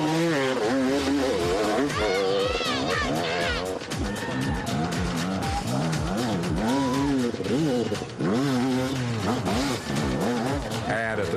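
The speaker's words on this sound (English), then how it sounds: "With the motor and the crowd revved up, he hits the hill" A loud motor revs and strains continuously as it climbs a hill, pitch rising and falling in repeated surges, with faint crowd noise beneath.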